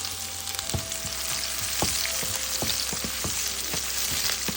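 Oil sizzles steadily as green chillies fry with garlic in a pan for prawn fried rice, with repeated light taps and scrapes of a spoon stirring at an uneven rhythm.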